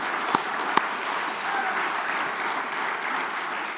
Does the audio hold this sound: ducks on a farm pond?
no